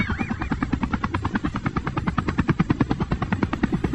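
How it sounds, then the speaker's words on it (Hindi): A helicopter flies low in a Hindi cartoon, its rotor blades chopping in a fast, even pulse that stays loud and close throughout, with no talk. "ये हेलीकॉप्टर तो बहुत ही नीचे उड़ रहा है।"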